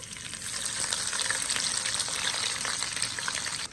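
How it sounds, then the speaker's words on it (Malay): Anchovies (ikan bilis) fry in hot oil in a pan, a continuous loud crackling sizzle with scattered pops, close up and with no voices. "kita goreng dulu ikan bilis ni"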